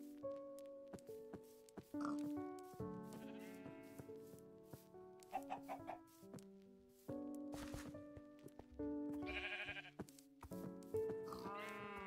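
Minecraft sheep bleat repeatedly in the game, a string of short nasal baas at varying pitches spread over twelve seconds, clear and close against near silence, with a few other faint game noises between.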